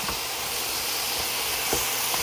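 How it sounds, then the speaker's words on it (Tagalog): Adobo, here turkey, fries in a hot pan, giving a loud, continuous broadband sizzle and hiss that stays steady throughout with small pops. "fry ko muna siya"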